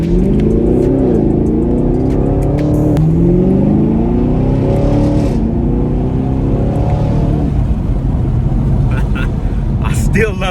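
A sixth-generation Chevrolet Camaro engine revs and rumbles loudly up close, its pitch climbing and settling through throaty exhaust tones, with a voice talking over it.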